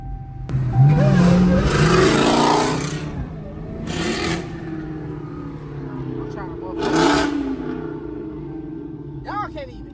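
A Dodge Trackhawk with straight exhaust roars loud and close, surging in long revving bursts as it accelerates through a late-night street, with people talking over it.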